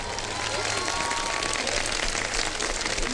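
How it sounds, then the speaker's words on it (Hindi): A studio audience on a Ramadan TV show claps steadily to greet actress Sanam Baloch's entrance, a dense, continuous wash of applause with voices mixed underneath. "सनम बलोच आ गई है ऊपर, तालियां बजाते हैं।"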